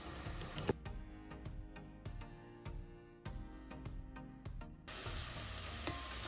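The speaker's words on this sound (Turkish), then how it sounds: "Soğanlar kavrulmaya başladı." Onions and carrot fry in a pan, producing a faint, soft sizzle at the beginning and end, separated by a tonal passage with rhythmic taps.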